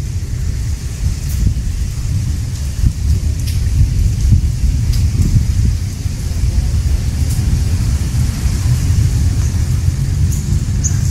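Heavy monsoon rain pours steadily over a village home in India, close and loud, with a deep rumbling undertone and occasional sharper splashes throughout.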